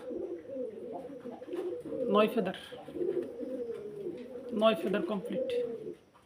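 Iranian Togi fancy pigeons coo at a farm, their soft rolling calls running on close by, rising in a couple of louder bursts while someone talks over them.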